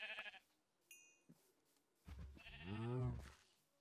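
A sheep in a video game bleats with a wavering, drawn-out cry near the end, preceded by brief scattered game noises and a short chime.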